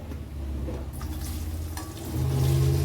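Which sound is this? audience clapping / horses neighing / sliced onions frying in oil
sliced onions frying in oil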